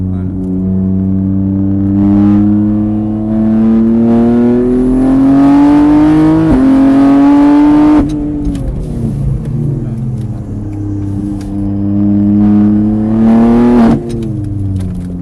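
A car on a track at Mireval revs hard through the gears, engine pitch climbing, dropping at each shift and climbing again, loud and close from inside the cabin.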